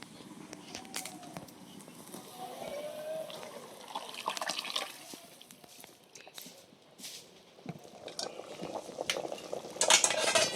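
Hot water pouring and splashing into a pot of mutton curry close by, with stirring clinks and a voice talking over the liquid sounds.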